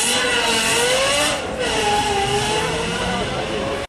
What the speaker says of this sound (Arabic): إيه الليكزس ال اف اي صوتها يجنن